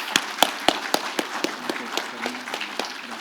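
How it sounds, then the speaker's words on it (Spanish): Scattered, sparse applause from the audience at a conference on tourism destinations. The claps are crisp and individual, fade over about three seconds and come with light murmuring. "Un fuerte aplauso"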